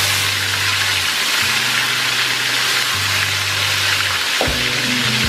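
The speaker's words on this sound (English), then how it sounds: "And let it fry until it's golden brown." Marinated breadfruit frying in hot oil, a loud, steady broadband sizzle that runs throughout, with a low tonal hum that drops out and returns.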